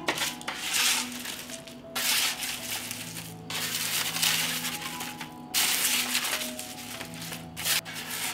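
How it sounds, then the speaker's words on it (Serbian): A utensil scrapes and stirs potatoes in a pan in repeated rough bursts of scraping and rubbing, close and fairly loud, with no talking. "Promešat ću."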